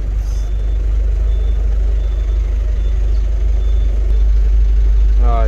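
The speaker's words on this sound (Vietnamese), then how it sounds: "Xe tải bên này đang vô cái chuồng nè các bạn" A 5-ton truck drives and maneuvers with a steady, loud low engine rumble throughout, and a brief rising whine appears near the end.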